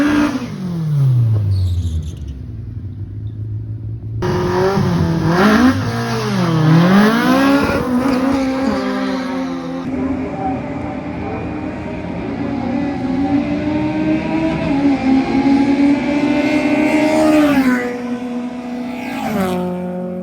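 Drag racing cars roar down a strip one after another, loud engines sweeping up through gear changes with rising and falling pitch, a distant crowd-like wash between runs.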